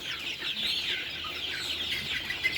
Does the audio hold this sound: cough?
no